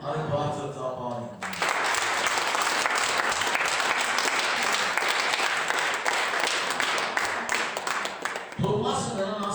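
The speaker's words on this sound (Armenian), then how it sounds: "Արի բարձր ծափարի" A church congregation bursts into loud, sustained applause lasting about seven seconds, with a preacher's voice speaking just before and after it.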